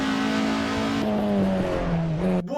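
A Dacia 1410 Sport racing car in Assetto Corsa runs at full throttle on a hillclimb, a loud harmonic engine drone climbing through gear changes, then briefly cutting off near the end.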